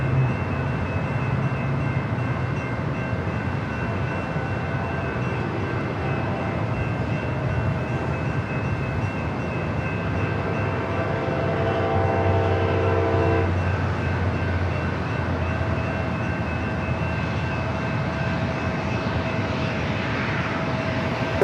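A light rail train runs alongside near San Diego airport, a steady loud rumble with droning engine hum and a brief horn-like tone midway, continuous throughout with no talk.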